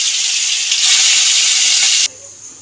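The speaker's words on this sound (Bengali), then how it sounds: "এবার আমি নুন হলুদ মাখা মাছগুলোকে দিয়ে দেবো। দিয়ে এপিট করে ভালো করে ভেজে নেব।" Salt-and-turmeric marinated fish sizzles loudly in hot, smoking oil, a dense steady frying hiss that swells briefly, then drops sharply to a quieter crackle near the end.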